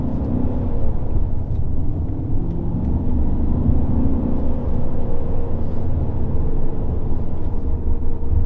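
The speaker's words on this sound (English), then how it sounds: "Driving this E39 M5 is, well, a time machine. It makes really good noises" Imola Red BMW E39 M5 being driven, a deep steady engine rumble with a low droning growl and rising-falling tones, loud and continuous under road noise, no voices.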